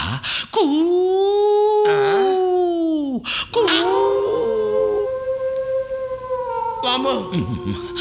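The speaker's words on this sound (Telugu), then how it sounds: "దూరంగా ఒక నక్క" A jackal howls in long, wavering wails that rise and fall, several drawn-out cries with short gaps between them, clear and fairly prominent against a quiet night background.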